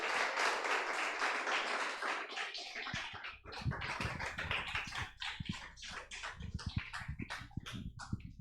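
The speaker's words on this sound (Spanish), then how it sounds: "denle un aplauso a Dios." A church congregation applauds after a service prayer: broad clapping fades into scattered, uneven claps and taps, with faint voices in the room.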